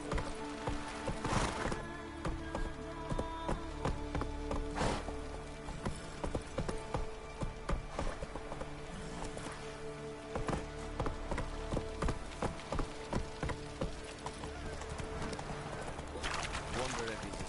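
Hoof clip-clop of Roach, Geralt's horse in The Witcher 3, sounds steadily through the clip, mixed with game ambience and an occasional voice.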